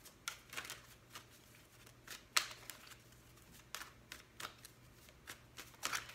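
A deck of tarot cards being shuffled by hand, giving irregular crisp riffles and soft slaps in short bursts, close and quiet, with no talking.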